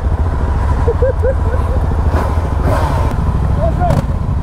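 A Yamaha MT-07 motorcycle rides along a coastal road near Cabo da Roca and Ericeira with a steady, loud engine drone and rushing wind, while people talk over it.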